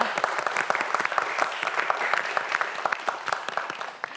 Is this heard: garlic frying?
no